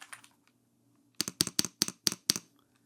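Typing on a mechanical computer keyboard during a sound test: a quick run of about eight crisp, evenly spaced keystrokes, close and clear, after a few softer taps and a short pause.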